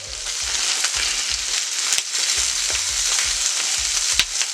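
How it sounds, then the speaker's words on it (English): Italian sausages and sauerkraut sizzle steadily in a hot pan with a constant bright frying hiss, broken by occasional soft stirring knocks, close up and alone without talk. "My sauerkraut is nicely cooking. Let that cook for a little bit. My sausages, they still got a while to go."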